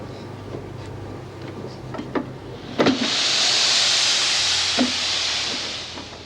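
A steam laundry press in a prison laundry vents a loud, sustained hiss of steam that swells midway and holds for several seconds, preceded by faint clicks and light clatter.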